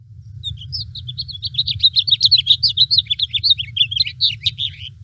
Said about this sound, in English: Listen to the house finch.